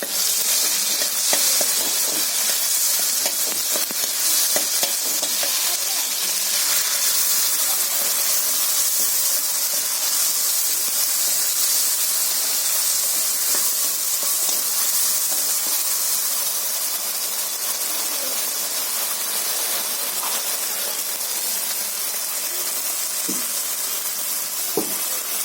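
A paste of ground ginger, green chili, cumin, coriander, onion and a little tomato sizzling in hot oil: a steady, bright frying hiss that carries on unbroken and fairly loud, with faint crackles and stirring.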